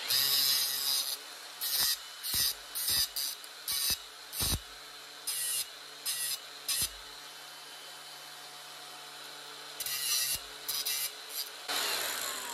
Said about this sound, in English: I got to clean the welding surface.